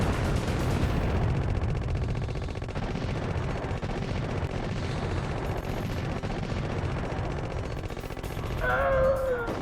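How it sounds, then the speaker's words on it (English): Spread gun firing in the video game Contra: a loud, continuous barrage of rapid retro-style gunfire that stays dense and steady throughout, swelling slightly near the end. "You want to see the spread? There's the spread gun."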